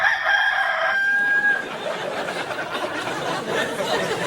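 Chickens cluck and a rooster crows in a sustained, drawn-out call near the start, followed by a continuing busy wash of fowl clucking and chatter, loud and close.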